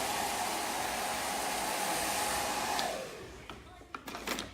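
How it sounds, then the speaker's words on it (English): Hair dryer blasting while blow drying a freshly cut graduated bob, a loud steady close rush of air that winds down near the end, leaving light handling clatter. "Now what we're doing here, just blast blow drying."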